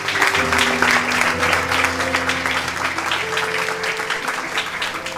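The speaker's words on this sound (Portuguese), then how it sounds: "Uma salva de palmas a esse Deus." Congregation applause at a church worship service: steady, dense clapping fills the room for the full stretch, with sustained musical tones held underneath.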